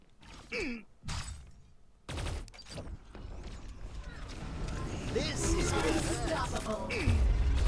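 Gunfire and combat effects from the video game T3 Arena build from sparse shots into a dense, rising rattle of weapons and impacts, with a player talking over parts of it.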